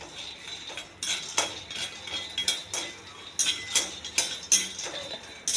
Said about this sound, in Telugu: కొద్దిగా పల్లీలు వేగించుకోవాలి